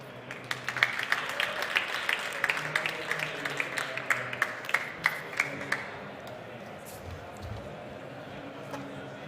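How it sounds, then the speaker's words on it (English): Scattered hand claps from a conference audience welcoming panelists ring out over a murmuring crowd, fading after several seconds into low room noise. "Please give them the applause and welcome to the stage."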